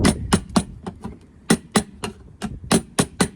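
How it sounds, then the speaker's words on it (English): A paint can lid is tapped shut with about a dozen sharp, close knocks in an uneven rhythm, some in quick pairs, with quiet gaps between them. "Just gonna just tap in the can top."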